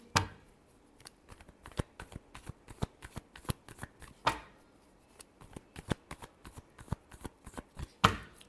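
Tarot cards being shuffled by hand in a run of sharp riffling snaps and soft slides, irregular bursts spread across the stretch with quiet gaps between, close and fairly faint, no voices.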